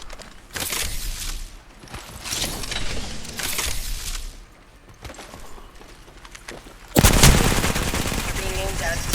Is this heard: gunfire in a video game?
yes